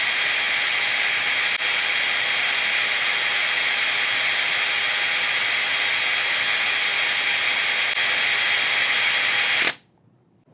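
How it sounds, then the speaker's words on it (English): A power drill spins a 1982 Honda Magna speedometer cable in reverse, whining at a constant high pitch for nearly ten seconds, loud and close, then stops abruptly. "the same drill on reverse going through the length of the cable"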